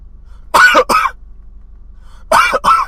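A voice imitates coughing and throat clearing in two short pairs of harsh bursts, separated by a pause of near silence.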